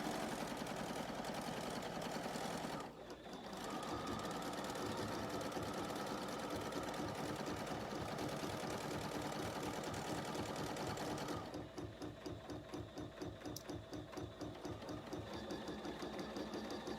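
A Bernina sewing machine stitches an embroidered garden flag in a steady, rapid mechanical chatter. The rhythm shifts partway through to a slower, more distinct beat of individual stitches. The machine runs alone at a fairly quiet level.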